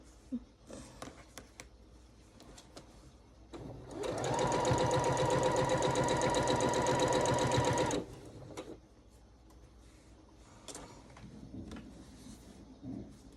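A sewing machine runs steadily for about four seconds, stitching a quilt block for a gnome-themed block-of-the-month pattern, a loud continuous whirring hum framed by quieter handling noises before and after.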